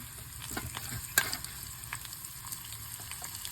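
Cumin seeds sizzling in hot oil, a soft continuous crackle with one sharp tap near the start, quiet and close with no talk.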